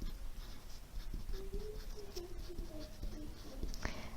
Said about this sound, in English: So I'm gonna write that down here.